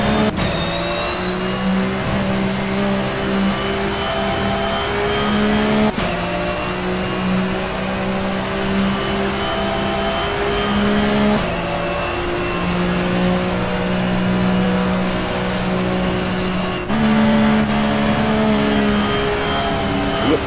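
Porsche GT3 Cup race car engine at Spa in a racing video game: a loud, continuous high-revving whine climbs steadily, drops sharply at each of three gear shifts, then climbs again, with no talking.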